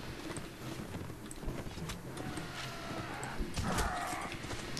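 Horse hooves clip-clop and a whinny rise out of a busy Mount & Blade battle, steady clatter throughout with a brief louder burst near the end.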